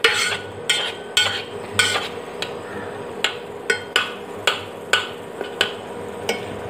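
Tomatoes and water are stirred in a pot for Tamil-style rasam, giving a series of sharp utensil taps and scrapes against the pot at an irregular rhythm, close and clear, with a low steady hum underneath and no talking.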